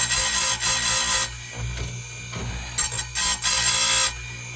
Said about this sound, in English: just finishing up this chain here. This little sharpener is handy to have.